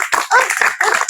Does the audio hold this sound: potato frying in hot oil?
no